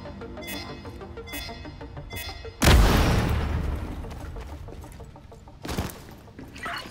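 A loud explosion blasting through the west wall in The Division 2, one sharp heavy boom that rolls off into a long decaying rumble, with a smaller blast a few seconds later and faint clattering game sounds before it.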